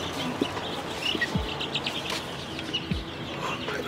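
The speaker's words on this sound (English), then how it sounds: "we're gonna go look at the chicks" Baby chicks in a farm supply store, with short high peeps and chirps scattered over a steady indoor hum and low thumps.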